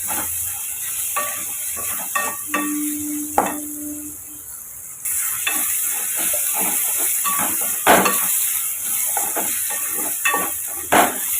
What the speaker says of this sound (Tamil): ரெண்டு நிமிஷம் நம்ம வதக்கி விட்டுக்கலாம்